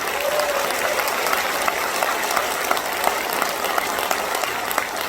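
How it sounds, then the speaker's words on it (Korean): An audience claps at the proclamation ceremony launching Gangwon Special Self-Governing Province, dense sustained applause that fills the hall evenly throughout. "여러분 다시 한번 뜨거운 박수 보내주시기 바랍니다."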